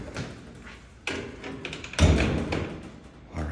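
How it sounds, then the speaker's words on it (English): A 1921 Otis micro-drive freight elevator door in a Chicago building is worked open with a run of close, heavy metallic clunks and thuds, the loudest bang landing midway, followed by rattling as the door moves. "Have to do some funny stuff here to get the door open."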